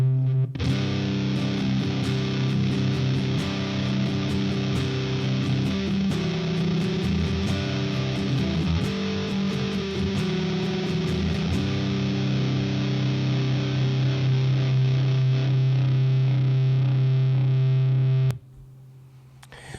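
Electric guitar through a heavy distortion Friedman amp model on an Apollo console, loud sustained chords ringing steadily for about eighteen seconds before cutting off abruptly.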